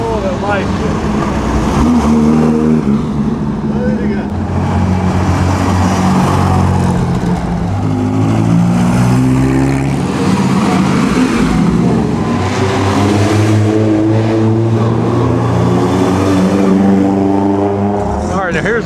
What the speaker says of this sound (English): Meanwhile, the cars still go by.